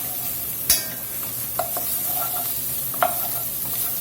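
Garlic and onions frying in a pan for a Louisiana pork steak with gravy, a steady close hiss of sizzling fat broken by a few sharp scrapes and taps of a spoon stirring.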